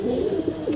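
A Siraji pigeon coos steadily inside a loft, a close, continuous low murmuring call running throughout with slight swells in loudness.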